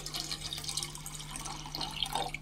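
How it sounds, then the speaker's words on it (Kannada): About a litre of water poured from a vessel into a cooking pot on a home kitchen stove, a brief, quiet trickle and splash heard alone. "1 ಲೀಟ್ರ್ ಆಗುವಷ್ಟು ನೀರು ಹಾಕ್ಕೊಳ್ಳಿ"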